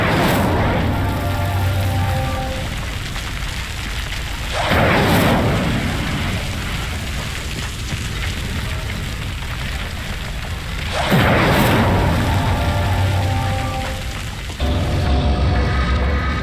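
Two loud whooshing fire bursts from an Incendio spell in Hogwarts Legacy flare up roughly six seconds apart over a steady roaring, crackling fire bed, with a low rumble throughout.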